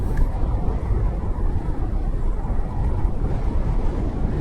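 A motorcycle rides along the Ajodhya hill road, with a steady, loud engine rumble and constant wind buffeting the microphone from start to finish. No one speaks.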